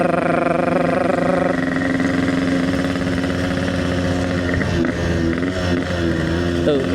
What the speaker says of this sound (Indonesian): suaranya tuh bersih, ini motor enak